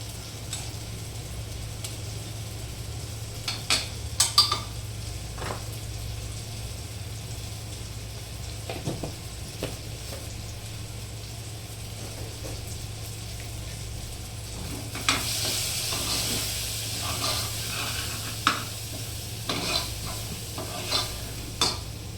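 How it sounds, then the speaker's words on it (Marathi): Chili powder, coriander powder, turmeric and garam masala sauté in a hot pan, giving a soft steady sizzle broken by frequent scraping and clinking strokes of a stirring spoon, close and continuous. "चला आता आपण मसालाही परतून झालेला आहे"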